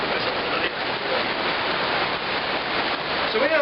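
Steady rain falling outside a fish house in Florida, a dense continuous hiss heard from indoors with a faint voice briefly near the end.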